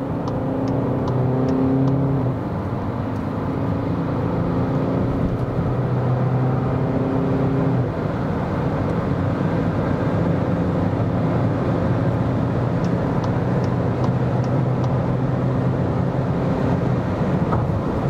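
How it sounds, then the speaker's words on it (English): A 2020 Skoda Octavia Combi accelerating from 50 km/h, heard from inside the cabin as a steady engine drone with road and wind noise, gear changes briefly shifting the tone, continuous and fairly loud. "So we're now accelerating from 50 kilometers an hour to whatever"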